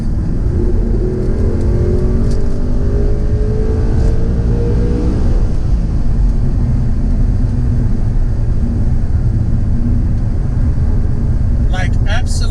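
An Audi R8 Spyder in normal mode drives under loud, steady engine and road roar from inside the car. A rising engine tone climbs early on, and a voice talks over the noise.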